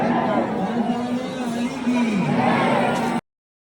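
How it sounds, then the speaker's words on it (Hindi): A dense crowd of pilgrims at the Nidhi Van temple in Vrindavan, a steady din of overlapping chatter and calls that stays close and loud from start to finish, with one voice holding a long tone above the noise. "देखो भीड़ भाड़ है"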